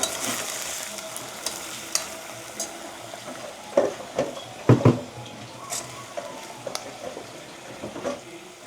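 A spoon stirs a vegetable curry of ginger and spices in a sizzling frying pan, giving steady frying crackle with scattered scraping knocks against the pan, a few sharper clatters near the middle.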